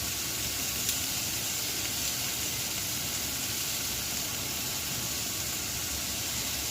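Mushrooms and onions fry in canola oil in a pan, giving a steady, even sizzle with a soft broadband hiss that holds at the same level from start to finish. No voices are heard.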